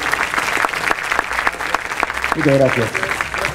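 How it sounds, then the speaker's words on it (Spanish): Applause from a ceremony audience rings out briskly at close range while a voice speaks over it, the clapping carrying on steadily to the end. "Fuertes aplausos nuevamente."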